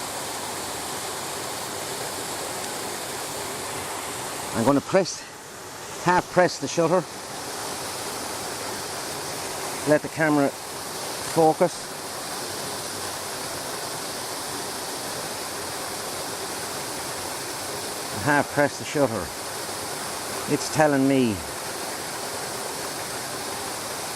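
A waterfall pours over rocks in a steady, broadband rush that fills the whole scene, with someone talking intermittently close by over it.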